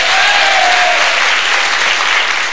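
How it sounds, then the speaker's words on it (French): A French television game show studio audience bursts into loud, dense applause for the contestants. The clapping stays thick and unbroken throughout, with a faint tone briefly sounding in the background. "Vous pouvez les applaudir"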